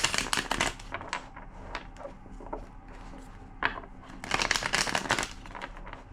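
Tarot cards riffled and shuffled by hand in bursts of dense crisp flutters, with quieter tapping and handling between, close and fairly soft, no talking.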